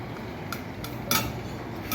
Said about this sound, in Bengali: তো লাউটা কেটে নিচ্ছি